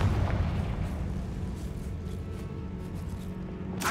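A Confringo fire spell detonates in the Hogwarts Legacy video game, a deep rumbling boom that rolls and sustains for several seconds before a sharp burst at the end.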